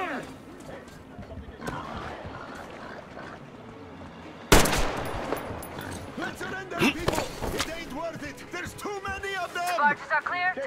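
Gunfire bursts and impacts in the shooter game Metro Exodus, loud sharp shots and rapid volleys erupting midway through an ongoing battle, with shouting voices and combat noise mixed throughout.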